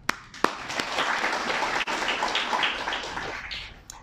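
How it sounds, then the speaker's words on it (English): A forum audience gives a round of applause, with a few sharp single claps at the start and then a mid-loud burst of mixed clapping that builds and tapers off toward the end. "So give ourselves a big round of applause too."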